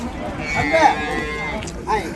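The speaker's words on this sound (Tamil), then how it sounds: "ஒரு ஜோடி உழவு காளை தாங்க இப்போதாங்க கொண்டு போகிறாங்க." Cattle lowing at a busy cattle market where a pair of plough bulls is being led off, a short moo rising amid crowd chatter and voices nearby.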